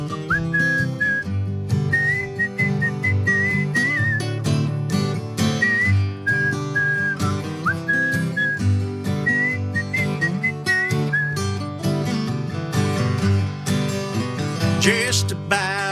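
Whistling carries a melody over a full music track, a bright, steady tune repeating in short phrases and continuing to the end.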